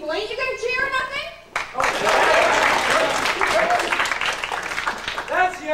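A crowd bursts into loud clapping and cheering at a high school musical performance of Oklahoma!, coming in after a stretch of voices and continuing strongly, with voices heard again at the end.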